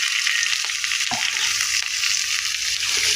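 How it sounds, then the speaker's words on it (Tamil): Okra and raw banana sautéing in oil in a kadai, a loud, constant close-up sizzle with faint occasional stirring knocks. "இதுலேயே ஒரு கடாய் வச்சு நம்ம ஆயில் விட்டு வெண்டைக்காயும் வாழைக்காயும் வதக்கணும்"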